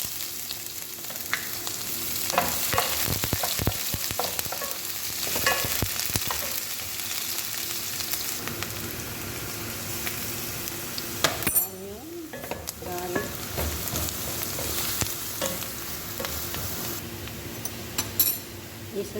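Chopped onion hits hot oil in a pan for a Filipino bottle gourd caldereta, giving a continuous loud sizzle with scraping stir strokes and occasional utensil clinks throughout.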